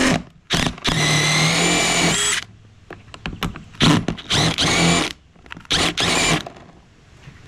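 A cordless impact wrench loosening a push mower blade bolt, with several short loud bursts of hammering whir separated by pauses and faint clicks.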